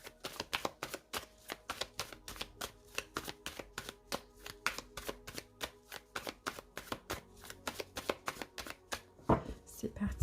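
Tarot cards being cut and shuffled, a steady run of quick papery riffles and flicks repeating close up for the whole stretch, with no talking over them.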